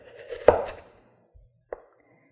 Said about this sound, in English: how well the chef knife can cut through a raw sweet potato